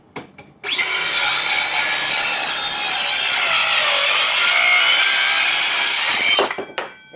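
A Hitachi C18DGL 18V lithium-ion cordless circular saw spins up and rips through wood in one loud, close, sustained cut lasting about six seconds, then winds down with brief clunks.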